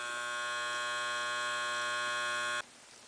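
A washing machine fill valve on the hot setting buzzes with no water coming through, a loud steady electrical hum close by that cuts off abruptly near the end.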